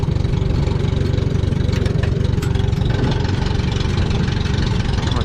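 A Minneapolis Moline A4T tractor engine idles steadily with a low, even chugging that holds throughout, close and fairly loud with no voices.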